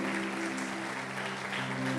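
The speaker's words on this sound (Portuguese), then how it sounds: "Vamos aplaudi-los mais uma vez." A church congregation applauds in a steady, dense clatter of clapping that continues throughout, with a low musical hum underneath.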